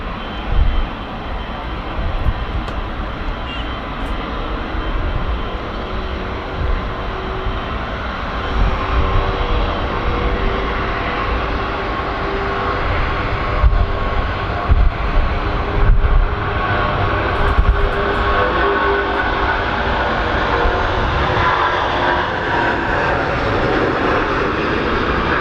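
A Virgin Atlantic Airbus A350-1000 rolls for takeoff at Manchester Airport with a loud, continuous jet engine roar that swells gradually over the whole stretch and carries a faint whining tone, heard from a distance.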